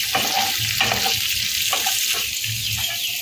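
Capsicum and chicken for Kung Pao chicken stir-frying in a pan on a high flame: a loud, close, continuous sizzle broken by regular stirring bursts.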